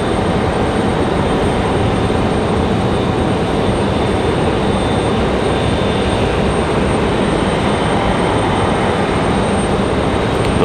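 An airliner departs Raleigh-Durham International, a loud, dense, steady jet roar filling the whole stretch without pause or speech.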